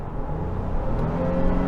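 A 2023 Honda Pilot Trailsport's V6 engine revs hard at full throttle, a steady rising mechanical drone heard from inside the cabin, loud and continuous for a short stretch with no talk over it.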